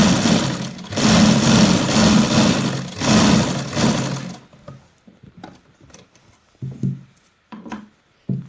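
Sewing machine stitching a kurti placket, a steady loud motor whir running in bursts for about four seconds, then stopping, followed by faint handling clicks and rustles.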